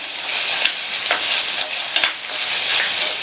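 Sliced onions fry in hot oil for a gravy, a constant close hiss and sizzle broken by a few soft scrapes and taps as they are stirred in the pan.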